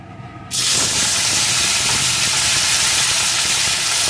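Cut potato pieces hit hot oil over fried whole spices, and a loud sizzle bursts on at once, then holds as a steady, close roar of frying.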